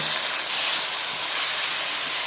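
Washed cracked wheat goes into a hot pan and is stirred, giving a loud, even, continuous sizzling hiss with no breaks.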